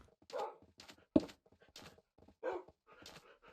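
Dogs in the Minecraft video game barking and whimpering in short separate bursts while being led home, with one sharper, louder bark near the middle and no talking.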